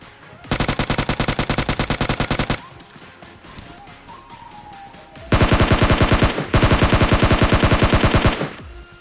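Two long sprays of rapid automatic gunfire at an enemy in a battle royale shooter game, loud and close, each burst lasting a couple of seconds with a quieter gap between them.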